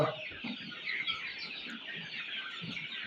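Desi native chickens and a rooster on a farm keep up a soft, continuous clucking and chirping, a faint flock murmur with no talk.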